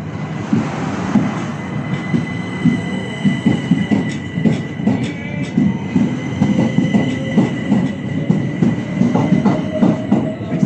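A Southeastern Class 375 electric train runs through Dover Priory station, a loud, close rumble of wheels with a steady rhythmic clatter over rail joints and faint squeals throughout.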